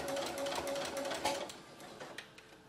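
A sewing machine slowly stitches a plush bat head, giving a faint, close, uneven rattling chatter with a thin whine for under three seconds.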